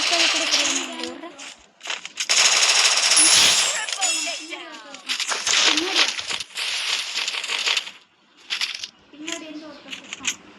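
Gunfire rattles in a video game in rapid bursts, some long and some short, broken by brief gaps. People talk excitedly over and between the shots.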